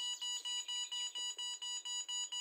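The built-in lost-drone alarm on an MJX Bugs 6 racer drone beeps in a fast, even series of high, piercing tones. About a dozen pulses in quick rhythm sound fairly faint and alone.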